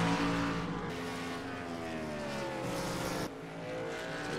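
Race cars, including a Toyota Camry and a Chevrolet, lapping the New Hampshire oval: a steady, loud engine roar with shifting pitch as cars pass, and no talking.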